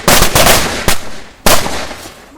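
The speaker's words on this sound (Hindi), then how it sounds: "आगे पटाखे भी फूट रहे हैं" Diwali firecrackers burst outdoors in loud, sharp bangs, several in quick succession, each followed by crackling and a decaying rumble.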